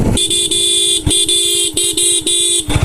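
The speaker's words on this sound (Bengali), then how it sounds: "তুই হর্ন বাজাচ্ছিস কে" A car horn on a street blares in a series of loud, sustained honks broken by brief gaps, repeated several times over a few seconds with no talking.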